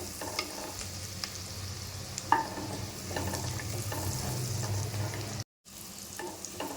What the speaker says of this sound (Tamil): ஒரு நிமிஷம் நல்லா கலக்கி விடணும்.